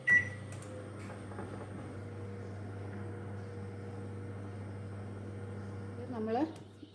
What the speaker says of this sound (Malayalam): ഞാൻ 15 മിനിറ്റ് ഓവൻ സെറ്റ് ചെയ്യുന്നു.